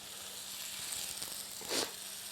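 Quails fry in a pan with onion, giving a faint, steady sizzle and hiss with a brief louder burst of spitting near the end, with no talking.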